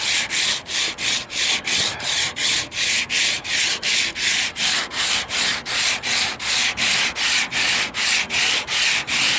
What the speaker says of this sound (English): I'll do some grinding there too.